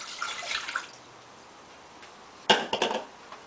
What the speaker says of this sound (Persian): 1 کاپ آب توی یه قابلمه میریزیم